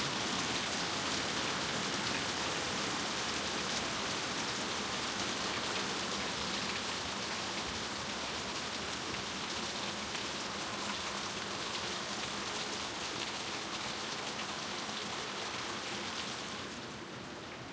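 Steady rain falls outside a log cabin in a dense, even patter on surfaces that continues for the whole stretch and eases slightly near the end, with no voices.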